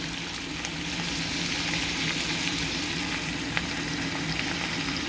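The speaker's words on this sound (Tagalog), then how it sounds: "igisa natin ng konting patis" Loud, continuous sizzling as Ilocano pinakbet vegetables sauté in a pan with a splash of Squid Brand fish sauce, an even frying hiss close up with faint crackles.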